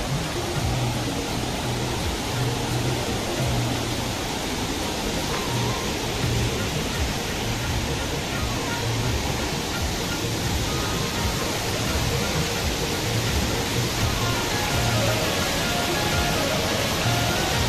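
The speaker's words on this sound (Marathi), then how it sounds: "हा बघा तर सारसईचा धबधबा." The Sarasai waterfall pours in a steady, loud broadband rush of falling water that fills the whole stretch without pause, like heavy rain or surf.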